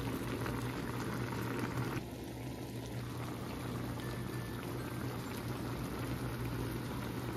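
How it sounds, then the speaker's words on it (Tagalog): A pot of beef neck-bone adobo bubbles and simmers steadily at a low, constant level, a dense wet hiss of boiling liquid with no voices. "Pabayaan ko lang siyang kumukulo."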